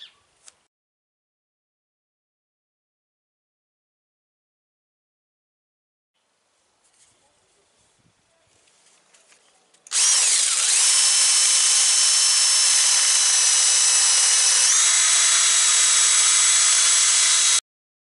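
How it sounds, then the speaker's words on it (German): A cordless drill whirs loudly and steadily with a sanding attachment grinding against a birch wood bowl, starting abruptly after a few quiet seconds of faint handling noise. "kann man das Ganze hier in einen Akkuschrauber einspannen und kann dann damit schleifen"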